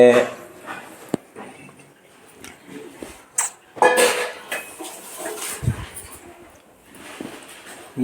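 Vermicelli (shavige) being mixed into cooked vegetables in a pot, with irregular scraping and clanking of a utensil against the metal, some louder knocks, in a kitchen.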